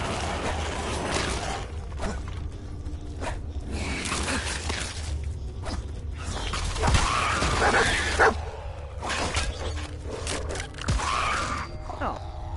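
Dogmeat the dog barks in Fallout 4 amid combat with mole rats, several yapping barks mixed with thuds, creaks and game noise, fairly close under a busy, continuous soundscape.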